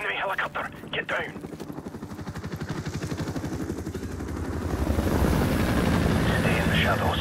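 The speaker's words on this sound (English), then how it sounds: "Enemy helicopter, get down." An enemy helicopter in a video game, its rotor thumping rapidly and growing louder, with a voice speaking over it at the start.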